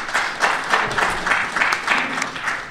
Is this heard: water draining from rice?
no